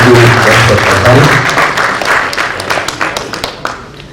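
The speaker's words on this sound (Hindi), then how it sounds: "तो जोरदार तालियों के साथ स्वागत करेंगे" A theatre audience at a Bhopal comedy show breaks into loud, dense applause that fills the room, then thins into scattered claps and fades out over a few seconds.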